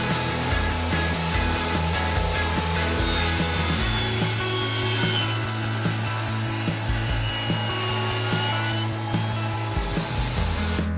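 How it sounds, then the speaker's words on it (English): A table saw with a crosscut sled squares the ends of a cured epoxy piece, a loud continuous close whine with a heavier cutting drone through the middle as the blade bites, no talk. "I took it over to my table saw to square up the ends using my crosscut sled."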